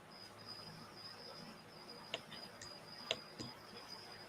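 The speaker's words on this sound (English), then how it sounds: "I have not heard no damn crickets until now." Crickets chirp at night as a faint, steady high trill, broken by a few soft ticks and clicks. The scene is quiet and distant.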